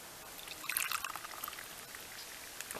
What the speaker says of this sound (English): Pour my hot water in there